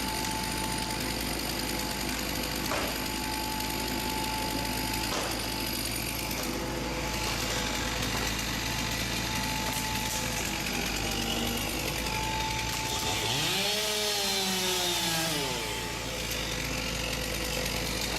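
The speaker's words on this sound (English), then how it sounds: "The chainsaw operator finishes the back cut." A chainsaw makes the back cut through an elm tree, its loud, steady engine roar running continuously and dipping in pitch near the end as the cut finishes, with heavy machinery rumbling alongside.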